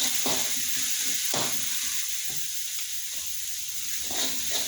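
Shallots stir-fry in a pan with a soft, continuous sizzle broken by several scraping stirs of a utensil at irregular intervals, fairly close and moderately quiet.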